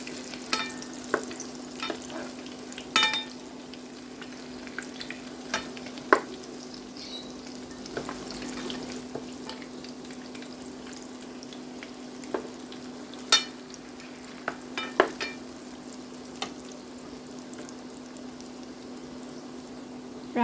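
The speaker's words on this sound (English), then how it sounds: "And fry it until it turns to golden brown." Tuna patties frying quietly in a pan, a faint steady sizzle broken by scattered small pops and crackles, with a low electrical hum underneath and no talking.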